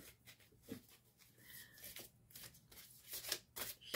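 Tarot cards being shuffled by hand, a quiet close-up run of soft riffling and rubbing strokes in short bursts with no talk.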